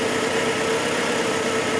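Off choke, a classic 70s Japanese rear-wheel-drive coupe's engine idles steadily after decades of sitting, a continuous even hum with a low, smooth tone, close and with no talk.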